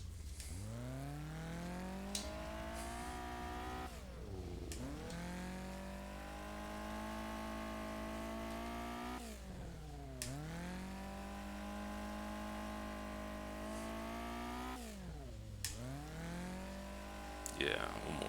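Midget race car engine from the NEMA asphalt midgets in an RSRFactor dirt racing mod: a loud, buzzy, high-revving engine that climbs and drops in pitch through several shift and lift cycles across the run.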